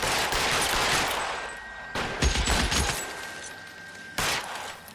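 Gunfire in the LA Noire video game, several loud bursts of shots in a row separated by brief pauses, close and alone with no talk.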